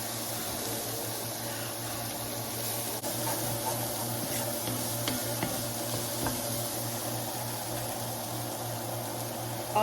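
Canned beans and vegetables sizzle and fry in a pan while being stirred for a caramelized crust, a steady hiss with scattered scraping clicks from the utensil, close and constant, with no voices.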